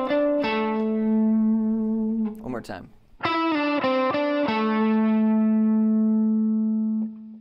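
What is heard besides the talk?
electric guitar lick without vibrato or bending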